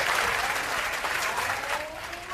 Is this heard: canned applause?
yes